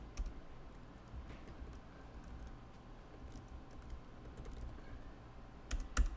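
Rapid, steady clicking of keys on a computer keyboard as code is typed, close and fairly quiet, with a few louder keystrokes near the end and no talking.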